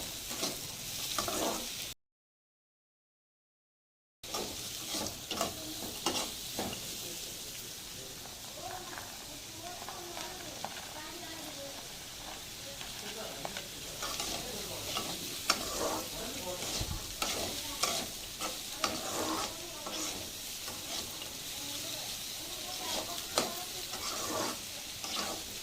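Carrots and beans stir-fry in a pan, a steady sizzle under repeated spatula scrapes and taps, close and moderately loud, with a short dropout near the start and a voice talking at times.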